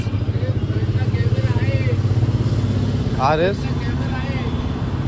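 An RS motorcycle engine idles with a steady, close, low rumble throughout, while people talk over it.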